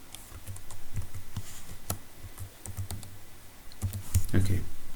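Name being typed on a computer keyboard, a close run of uneven key clicks and taps with short pauses, getting busier toward the end, with a voice faint in the background.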